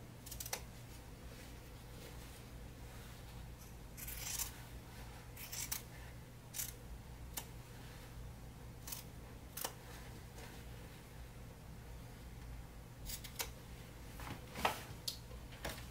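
Fabric being cut with scissors while making a zipper pocket for a sewn hip bag: a series of faint, sparse crisp snips and clicks at irregular intervals over a quiet room hum, with no talking.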